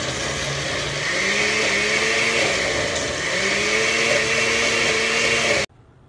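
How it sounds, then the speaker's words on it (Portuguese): A blender runs loud and steady, grinding peanuts into a thick paste with a strained, wavering motor pitch, then cuts off abruptly near the end. "coloca no liquidificador e vira sua pasta de amendoim"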